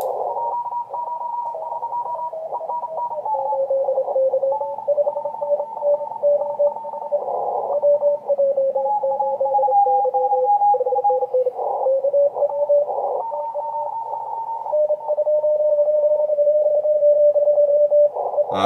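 Several amateur radio stations pile up on one frequency on the 75/80 meter band, overlapping steady tones and warbling carriers crowding together continuously for a long stretch, loud and with no clear speech.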